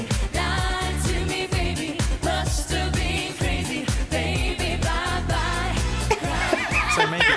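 A pop song plays loudly and continuously with a steady pulsing beat and dense layered instrumentation throughout.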